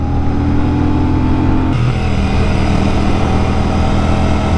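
A Royal Enfield Shotgun 650 two-cylinder motorcycle engine drones loudly and continuously up close, its pitch shifting slightly partway through as the revs change.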